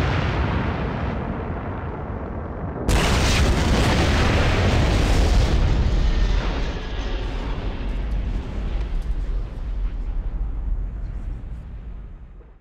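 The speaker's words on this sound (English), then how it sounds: "The ship has been destroyed." A starship blows apart in a Star Trek Bridge Commander space battle: a sudden loud, broadband boom erupts after a low rumbling lead-in, then rolls on as a long, dense roar and crackle that slowly fades over many seconds.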